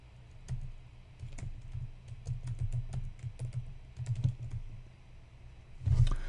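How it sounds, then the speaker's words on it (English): Steady typing on a computer keyboard, quick uneven key clicks close by, with a burst of heavier keystrokes near the end. "you can just start typing in an address"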